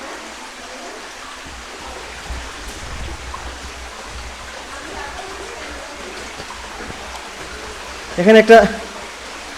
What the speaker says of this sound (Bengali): গুহার ঝর্ণা কিভাবে বেয়ে আসছে।